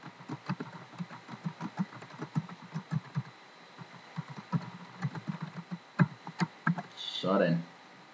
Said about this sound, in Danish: Og skriver en lille besked til mine venner.